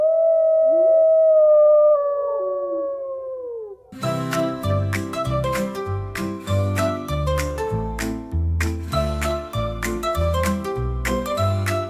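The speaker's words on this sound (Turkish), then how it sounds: "kurt" A single long, rising wolf howl opens the clip, with a fainter second howl behind it. After about four seconds it gives way to bright, jingly instrumental music with steady chime-like notes.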